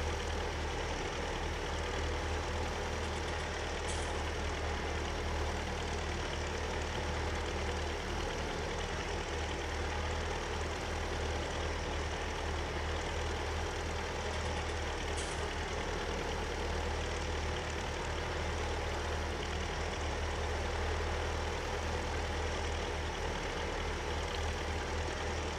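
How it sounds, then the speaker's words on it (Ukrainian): A tractor drives in Farming Simulator 22: a continuous low diesel engine drone runs steadily throughout, even and unbroken, with two faint brief clicks and no talking. "Трактор йде, точніше."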